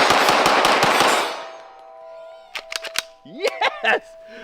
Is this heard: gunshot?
yes